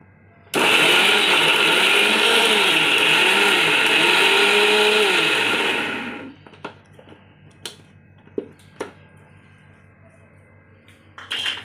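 A mixer grinder grinds biryani masala into a fine paste, running loud and steady with a whining, wavering motor for about six seconds before stopping, then a few faint clicks and knocks.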